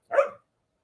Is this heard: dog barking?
yes